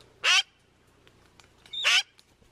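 Crows and magpies give two loud, harsh calls about a second and a half apart while feeding on mealworm treats, each short and close against an otherwise quiet background with no talking.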